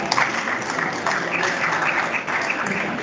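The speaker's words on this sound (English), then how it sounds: "Let's give them a good clap." Audience applause for case study presenters at a conference on building resilience in East Africa, a dense, even burst of clapping from many hands throughout.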